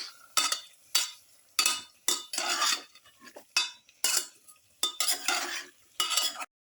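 A chicken liver mixture with green chili is stirred in a pressure cooker pot: a rhythmic run of about a dozen loud, close scraping strokes, each separated by short pauses, over a faint sizzle.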